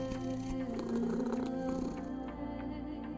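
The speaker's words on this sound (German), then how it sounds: "Schnurren ist gut." A cat purrs in the video game Copycat, a low rumbling purr that rolls steadily and close, softening slightly toward the end.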